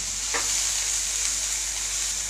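Soybean chunks and bay leaves fry in a hot pan over medium flame, giving a steady, bright hiss of sizzling oil with a brief scrape of stirring early on.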